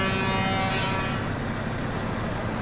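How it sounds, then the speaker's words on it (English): Truck horn blaring in the off-road driving game SnowRunner, a loud, sustained tonal blast that holds steady for about a second and then trails off into rumbling engine noise. "Oh, that horn sounds great."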